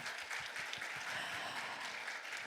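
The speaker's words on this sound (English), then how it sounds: "Yes, please give a big round of applause." Audience at a startup event opening ceremony in Jeju gives steady, fairly distant applause, a continuous patter of many hands with no talk over it.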